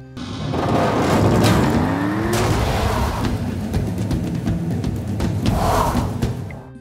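Cars roar and skid with squealing tires and impacts during a film fight scene, loud and continuous with a rising engine sweep and crashing bursts.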